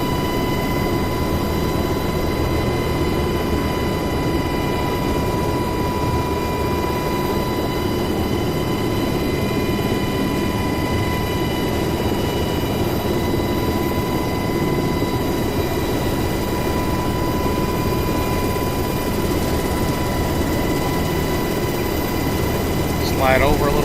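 A UH-60L Black Hawk helicopter in DCS World drones steadily with turbine whine and rotor hum while landing beside a warehouse, loud and constant throughout with no pauses.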